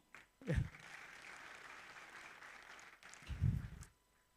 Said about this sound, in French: Abdi Heibe, ambassadeur de Djibouti, qui mérite vos applaudissements.